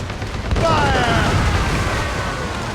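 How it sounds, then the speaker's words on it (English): Ship mortars fire in the naval combat of Assassin's Creed Rogue, a heavy boom followed by a dense, sustained roar of explosions and battle noise, with talk mixed in. "We should fire our mortars"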